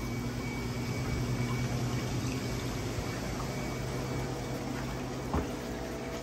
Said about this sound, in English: Our next step is we're going to rinse them in clean salt water